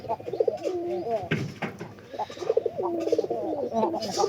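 Pigeons coo in soft, rolling, repeated phrases that overlap one another, close by and fairly quiet, with a faint murmur of voices in the background.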